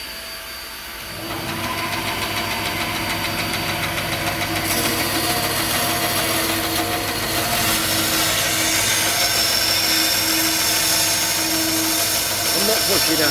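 A cheap Aldi bandsaw with a new blade cuts steadily through a B&Q wooden board, its motor droning loudly and continuously with a rising rasp once the blade meets the wood, alongside a running vacuum.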